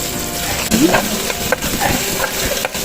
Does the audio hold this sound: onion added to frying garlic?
yes